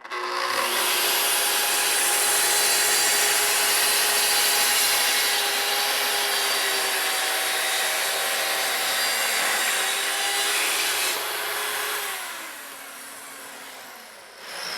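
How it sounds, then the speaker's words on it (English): A plunge cutting saw slices through a wooden wainscoting board with a loud, steady, high whine and rasp, then winds down as the cut finishes near the end. "this is a plunge cutting saw"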